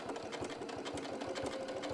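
A sewing machine stitches fabric around a curve, a close, rapid and even mechanical chatter of the needle driving steadily throughout.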